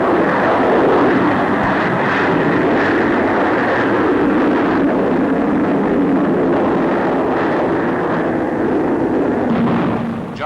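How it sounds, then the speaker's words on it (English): A de Havilland 110 twin-engined jet fighter roars past in a loud, sustained rush of engine noise with no gaps, in an old newsreel recording from the Farnborough air show. "Here is the de Havilland 110."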